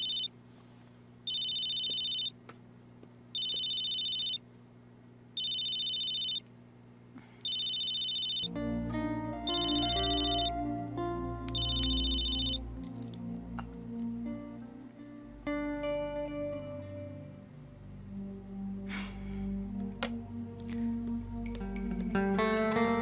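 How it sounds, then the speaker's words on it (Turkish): A mobile phone rings in a hospital, a repeating electronic ringtone in evenly spaced bursts that gives way to a fuller melodic ring tune with low bass, clear and fairly close with no talking over it. "bu Burak'ın telefonu değil mi?"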